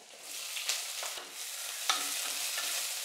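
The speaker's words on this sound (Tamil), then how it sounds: "வெங்காயம் வதங்கட்டும்" Onions sautéing with garlic in a pan, giving a steady, fairly soft frying sizzle with occasional stirring scrapes, close and continuous with no talking.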